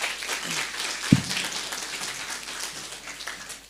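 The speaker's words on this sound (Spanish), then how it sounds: "Vamos a dar una vez más, por favor, fuertes aplausos." A church congregation at a Sunday service claps along in a steady, dense wash of applause with a hall-like spread and one sharp low thump partway through.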